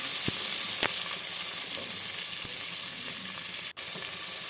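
Tomatoes and two green chillies hit reddened onions in a frying pan, producing a strong, even sizzle with a couple of quick spoon clicks and a brief cutoff near the end, close and loud.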